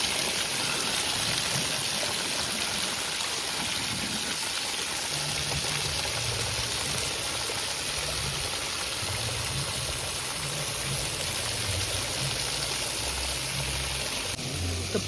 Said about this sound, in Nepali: पानी सुलुलु